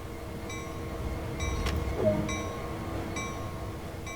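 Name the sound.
locomotive moving along track, from video game Train Sim World 2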